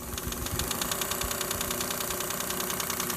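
A Lapmaster Wolters model 12 lapping and polishing machine runs with a steady mechanical hum and a fast, even pulsing rattle, close and continuous.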